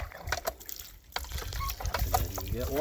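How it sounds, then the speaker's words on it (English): A hand water pump on a long-distance hiking trail is worked by hand. Its handle produces close, rhythmic squeaks and creaks, with faint trickling water underneath. "And then you start pumping."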